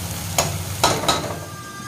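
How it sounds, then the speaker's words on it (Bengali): Garlic, onion and green chili frying in a pan as they are stirred, giving a steady close sizzle with three sharp scraping stir strokes spaced across the clip. "এগুলোকে একটু নাড়তে এই যে এবারে একটু নেড়ে দিল রসুন পেঁয়াজ আর কাঁচা লঙ্কা"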